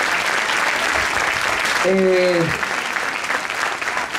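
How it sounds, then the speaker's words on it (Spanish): A charity gala audience applauds a young champion, sustained dense clapping under an amplified voice, with a brief sung or held tone partway through. "Un aplauso para este campeón que está aquí facendo un día inolvidable."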